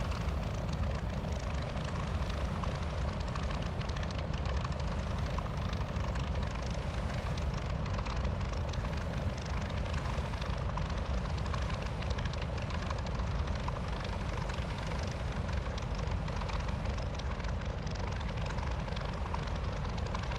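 A P-40F Warhawk in Microsoft Flight Simulator comes in to land, its propeller engine a loud, steady, broadband drone that holds unbroken from start to finish with no voices.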